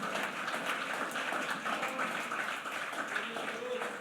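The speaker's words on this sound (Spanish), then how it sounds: "Apláudalo, hermano, con gozo." A church congregation claps in worship, a soft, steady mass of hands heard from a distance, with faint voices mixed in.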